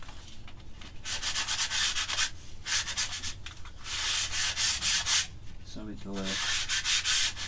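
A dolls house's wooden parts are lightly sanded by hand, making steady, close scratchy rubbing in repeated strokes with short pauses. A voice speaks briefly partway through.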